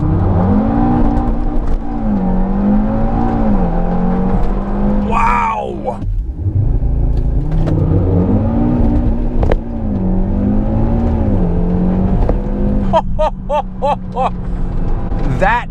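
A tuned 2018 Audi RS3 (APR Stage 1, 542 hp on E85) roars loudly and close on a launch-control start, the engine note climbing through the revs with a sharp break at a gear change before pulling hard again.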